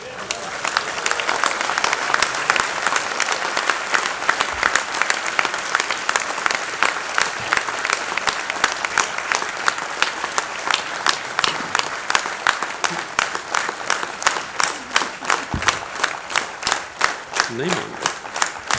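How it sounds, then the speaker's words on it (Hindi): A large audience at the Deenanath Mangeshkar Award 2024 ceremony applauds Amitabh Bachchan with loud, sustained clapping that stays steady throughout, with crowd noise and faint voices mixed in. "ये अमिताभ बच्चन के लिए तालियां हैं"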